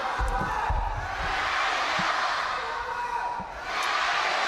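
A large crowd at a University Games 2023 team gold-medal match between China and France fills the hall with a steady, dense roar of cheering and noise that holds throughout, with a voice faintly present beneath it.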